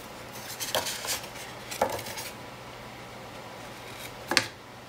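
Excess material being trimmed away during a paper page build, heard as a few short, crisp cutting and scraping strokes, close and fairly quiet, separated by near-silent pauses, with a final sharp snip near the end.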